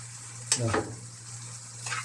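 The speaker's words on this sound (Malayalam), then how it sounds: "അങ്ങനെ ഇതിലേക്ക് ഇട്ടതിന് ശേഷം ഒന്ന് ഇളക്കി യോജിക്കുക" Brinjal mixed curry being stirred in a pan gives a soft sizzle with a couple of brief scraping strokes, close and moderately loud, with a faint voice in the background.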